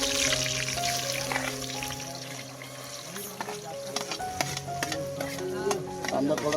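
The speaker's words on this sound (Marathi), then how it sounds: "पहिला आपण कांदा टाकणार आहोत. तेल मस्तपैकी बघा गरम झालंय." Onion frying in hot oil for masala Maggi cooked outdoors in a village sizzles and crackles steadily, with stirring scrapes and clinks, while tonal background sounds run underneath.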